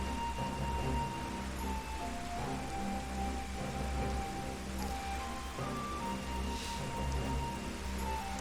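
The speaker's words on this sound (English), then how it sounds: "it's raining like a motherfucker here" Steady rain falls in a broad, even hiss with faint patter, continuous for the whole stretch and fairly quiet, with a few thin tonal game sounds layered over it and no talking.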